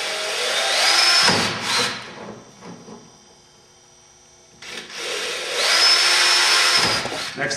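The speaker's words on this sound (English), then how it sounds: "we're going to pre-drill these with our 1/8" drill bit" Two bursts of a power drill with a 1/8-inch bit pre-drilling holes in wood, each whining up to speed and grinding for a couple of seconds, separated by a brief quiet pause.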